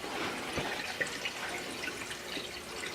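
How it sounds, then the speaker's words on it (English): Antifreeze trickling and dripping as it is poured through a coffee filter, a soft, steady liquid patter with a few brief splashes, close by with no talk. "Just running it through a coffee filter."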